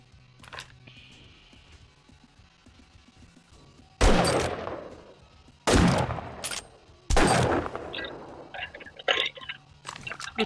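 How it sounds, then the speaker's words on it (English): Gunfire in the zombie survival game 7 Days to Die, set inside a building: after a quiet stretch, three loud, rattling bursts of shots erupt in quick succession, followed by scattered smaller impacts. "I'm shooting shit in another building that I'm not even supposed to be"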